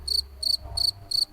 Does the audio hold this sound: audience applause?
no